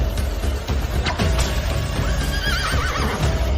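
A horse neighs loudly in a dramatic scene, its whinny rising and wavering over a dense, busy background of hooves and commotion.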